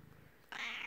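A house cat gives one short, fairly loud meow close by, after a quiet moment.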